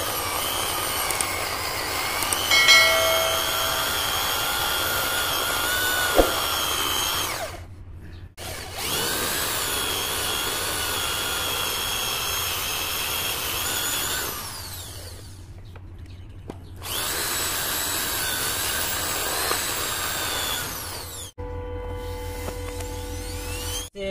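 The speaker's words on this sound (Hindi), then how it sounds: "ड्रिल मशीन से हॉल निकालूंगा ऐसे क्रॉस करके" An electric drill machine bores crossing holes in a wooden block for a handmade side rebate plane, whining at a steady high pitch in several long runs separated by short pauses, close and loud, with no talk.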